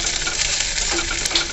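Chopped onion frying in hot oil with crushed garlic, dried red chillies and black cumin, a loud close steady sizzle with faint clinks over about a second and a half.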